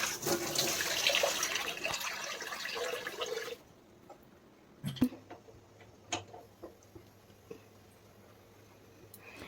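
Water pouring into a cooking pot, a loud gushing stream for about three and a half seconds, then quieter drips and knocks of the pot on a kitchen stove.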